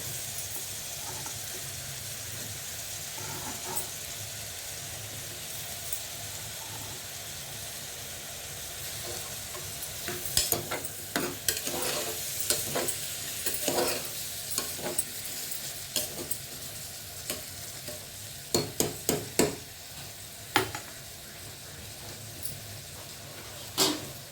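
Tomatoes tossed into a frying prawn and radish curry, a low steady sizzle that grows busier midway, with clusters of crisp clicks and spoon scrapes against the pan.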